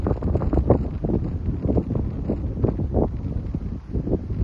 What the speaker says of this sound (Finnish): Itse asiassa täällä tuulee vieläkin